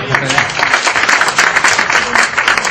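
A seated audience at an Indonesian convert-versus-pastor religious debate applauds in a dense, steady clatter of many hands that lasts throughout at full volume.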